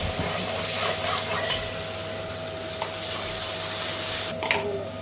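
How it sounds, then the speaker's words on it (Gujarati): Onion sizzling steadily in a pan with ginger-garlic paste, a continuous close frying hiss with faint stirring scrapes, no talk. "તો આપણી ડુંગળી શેકાવા આવી ગઈ છે"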